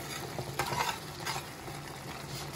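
Tomato pizza sauce thickening in a pan is stirred with a spoon, giving soft scraping strokes over a steady bubbling sizzle, close and fairly quiet, with no talking.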